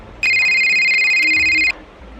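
A single loud electronic phone tone sounds close, a steady bright beep holding for about one and a half seconds before cutting off, alone with no talking over it.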